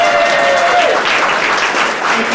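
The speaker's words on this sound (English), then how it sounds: "You may now applaud." Audience applause at the Pacifica Chamber of Commerce awards ceremony, a dense, continuous round of many hands clapping filling an indoor hall, steady and fairly loud, with a brief tonal tone fading out near the start.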